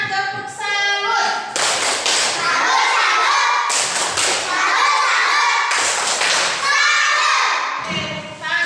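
A school class performs the tepuk salut clapping routine, bursts of rhythmic group clapping and hand slaps alternating with short chanted phrases from the children, loud and close.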